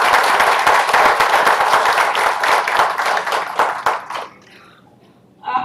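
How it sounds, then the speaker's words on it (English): An audience of guests at an institute welcome event bursts into dense, close clapping that holds steady for about four seconds, then abruptly dies away to near silence. "So big round of applause to all of you all."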